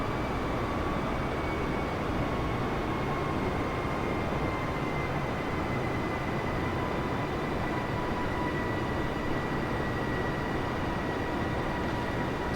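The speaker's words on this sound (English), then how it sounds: "the engines have kicked in a bit in order to be able to level the plane out" Airbus airliner engines in Microsoft Flight Simulator hold a steady, loud broadband roar with faint tonal whine throughout, unchanging and continuous with no talk over it.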